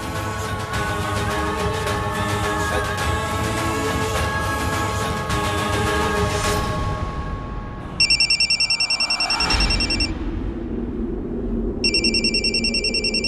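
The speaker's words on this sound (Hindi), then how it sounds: "ये तो उस आदमी का फोन है।" A phone rings in two loud electronic bursts after a stretch of background music and noise.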